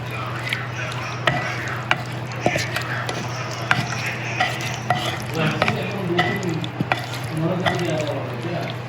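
Kerala-style mango pickle being stirred and mixed by hand in a bowl, with steady wet squishing and scraping strokes over a low background hum, close and moderately loud throughout.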